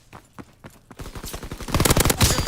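Rapid bursts of PPSh submachine gun fire in the Call of Duty WWII video game, sparse single shots at first, then a dense, loud, sustained rattle of automatic fire with no talking.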